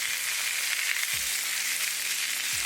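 Salmon fillets fry in a skillet with a steady, close broadband sizzle that runs through the whole stretch without a break. Two low thumps or clunks from the pan stand out briefly beneath it.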